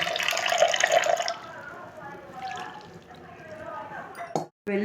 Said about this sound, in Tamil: இதுலேயே 1 கப்பு தண்ணி சேர்த்துக்கலாம்.